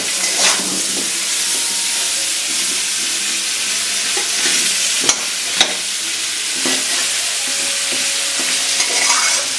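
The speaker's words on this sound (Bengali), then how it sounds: "সবজিগুলো একটু ভালো করে কষিয়ে দিতে হবে মশলা ছাড়া মানে ভেজে নিতে হবে" Vegetables fry in a pan without spices for Gobindobhog rice khichuri, giving a steady close sizzle and hiss broken by scraping stirs and a few sharp taps of the spoon.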